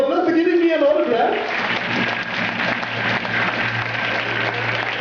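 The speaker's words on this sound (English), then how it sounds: "give them a big round of applause for giving me an autograph" Audience applause at a young authors contest event, a steady broadband wash of clapping throughout, with a voice speaking over the opening second and a low hum beneath.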